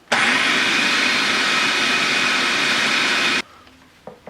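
A food processor pulses fresh tomato salsa ingredients: a loud, steady motor whir runs for about three seconds, then cuts off abruptly, leaving near silence with a faint clink at the end.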